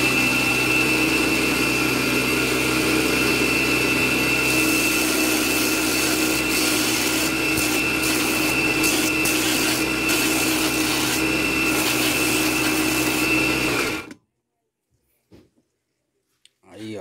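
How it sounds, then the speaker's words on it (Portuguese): A power sander grinds knife handle pins flush with the handle, a loud, steady whining drone that runs without a break, then cuts out abruptly and is followed by near silence with a few faint knocks. "Agora eu vou lixar eles aqui."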